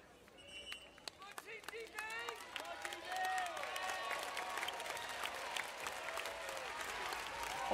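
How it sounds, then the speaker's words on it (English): Spectators at a Paralympic 5-a-side football match between Great Britain and Spain clap as players return after a timeout. Scattered claps build into sustained applause, with talk running underneath. "Always nice for the crowd to clap when the players come back after a timeout"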